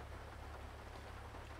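Steady rainfall in the video game GTA 5, an even hiss of drops striking surfaces over a low constant hum, unbroken and without speech.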